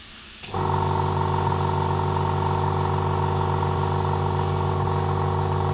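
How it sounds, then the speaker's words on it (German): An Iwata CM-SB airbrush sprays undiluted Schmincke Aero Color paint onto a dragon picture: a steady, even hiss of air and paint starts abruptly and runs without a break, with a faint tonal hum underneath. "Jetzt sprühe ich einfach mal auf dem Drachenbild hier ein bisschen rum."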